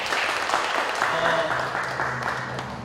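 Audience applause at a Korean church thanksgiving service launching a missionary society, a steady dense wash of clapping that fills the room, slowly fading toward the end, with faint voices underneath.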